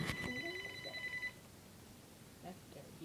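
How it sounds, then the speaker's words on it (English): A telephone bell rings indoors in a single burst of steady high tones that stops after about a second, with faint chatter and movement in the room afterward. "Okay, phone is ringing."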